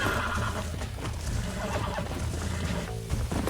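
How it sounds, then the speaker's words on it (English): A horse whinnies loudly in the Red Dead Redemption video game, its call mixed into dense game ambience and music with a constant full-band background wash. "It's a beautiful horse"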